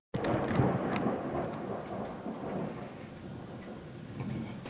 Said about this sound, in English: for once, we actually have got a thunderstorm here